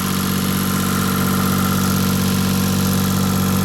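The inboard motor of a sailboat idles at the dock, a loud, steady drone with a constant hum and a faint rhythmic throb that holds evenly throughout, with no voices.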